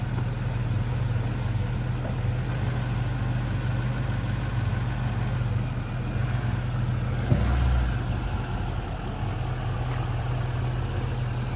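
A Chevy truck engine idles and revs steadily while backing up to help pull out another stuck truck, a continuous mid-pitched rumble with one brief thump partway through, no voices.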